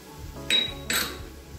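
Metal spoon scraping and clanking twice against a pan while stirring Christmas farofa made from cream cracker crumbs with diced olives, two sharp close knocks with a faint scrape between.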